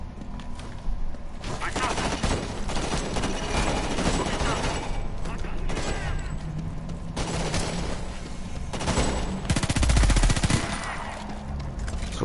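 Gunfire in Homefront: The Revolution as a lock is shot, loud rapid bursts of automatic fire in several separate volleys, with a voice talking between them.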